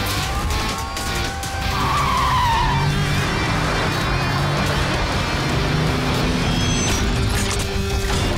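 Cartoon Force cars skidding as they dispatch, with loud tire squeals and engine roar that build and stay sustained, close and intense.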